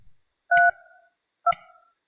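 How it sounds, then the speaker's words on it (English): Two short electronic keypad tones from a Mitel 5340 IP phone as an extension is dialed, each a clean beep about a second apart, close and alone in silence. "Dial Kevin's extension 3212."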